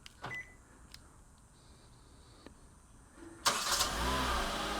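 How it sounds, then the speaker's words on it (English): A Hyundai Kona started by remote key fob: after a faint quiet stretch with small clicks and a chirp, the engine cranks and catches with a sudden loud start, then settles into a steady close idle. "The vehicle will respond by flashing its lights and starting."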